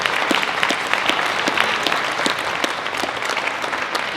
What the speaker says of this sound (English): Final round of applause if you'll join me for all the legislators who got our way